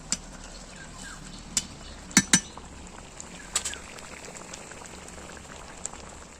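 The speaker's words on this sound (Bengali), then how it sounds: "ঝোলটা ফুটে গেছে" Shrimp curry gravy boils in a pot with a soft, continuous bubbling hiss, broken now and then by sharp pops and faint clinks.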